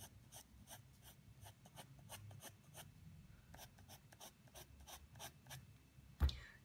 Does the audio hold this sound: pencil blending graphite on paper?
yes